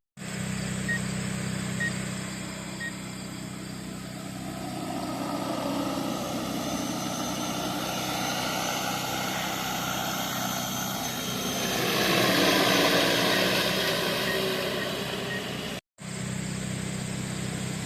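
A steady, droning buzz of multiple small rotors from a DJI Agras T30 agricultural spray drone over pasture hums continuously, swelling louder briefly as it passes near, then cuts out for an instant.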